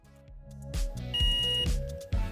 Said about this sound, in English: The tool is now beeping saying, hey, I've reached 200 degrees